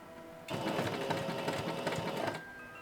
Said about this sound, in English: You can top stitch this piece now or later to make sure all the layers stay flat.